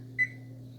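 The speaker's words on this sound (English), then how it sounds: "I'm going to set my timer to another 3 minutes." A kitchen timer gives a single short electronic beep while being set, close and clear over a low steady background hum.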